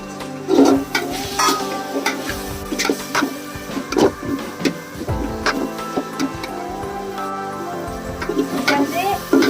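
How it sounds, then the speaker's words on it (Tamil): Onion, tomato and mint sautéing in a pan for Chettinad chicken biryani, with scrapes and clinks of stirring over a soft sizzle and background music. "வெங்காய தக்காளி புதினா எல்லாம் வந்து நல்லா வதங்கிடுச்சு"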